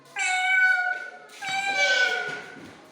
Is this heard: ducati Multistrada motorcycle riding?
no